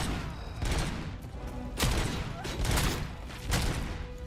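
Enemy gunfire in the RoboCop: Rogue City video game, a few bursts of shots popping at intervals over a dense background of game noise and action.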